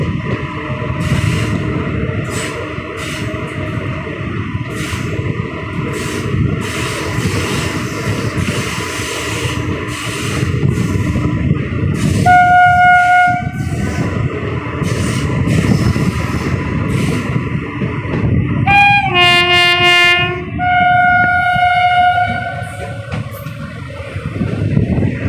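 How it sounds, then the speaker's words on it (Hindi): A train runs along a newly doubled track between Sitapur Junction and Sitapur City, heard as a steady low rumble of wheels and motion with rising horn-like tones sounding twice partway through. "सामने वैग 9 से हमारी ट्रेन चलती हुई।"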